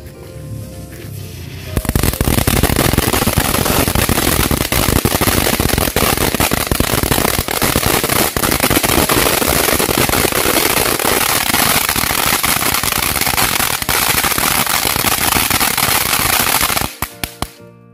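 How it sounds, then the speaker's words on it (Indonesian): Cassandra Magical firecrackers go off in a dense, continuous barrage of crackling bangs, loud and close, running for about fifteen seconds before stopping abruptly with a few last pops. "Sekarang kita nyalakan mercon Cassandra Magical"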